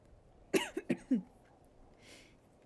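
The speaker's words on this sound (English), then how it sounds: "I've still got just a teeniest bit of a cough left after all this time." A person coughs four times in a quick, close burst, the last cough slightly longer, followed by quiet room tone and a faint hiss.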